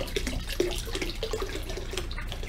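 Tap water runs steadily from a sink faucet into a homebrew fermenter being filled for a Mr. Beer boysenberry saison, a continuous close splashing wash with no talk.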